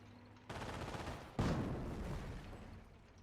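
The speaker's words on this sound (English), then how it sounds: "Anti-tank rifles being forced back by a machine gun as well." Machine gun fire in the Company of Heroes video game, a sustained rattling burst of rapid shots that intensifies midway, moderately loud over the game's battle ambience.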